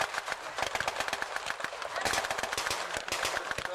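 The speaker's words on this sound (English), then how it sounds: "The German return fire at the moment." Gunfire at a World War 2 battle reenactment day on the Hastings battlefield, with rapid bursts of sharp rifle and machine-gun shots cracking in dense clusters, loud and close, with faint voices in the background.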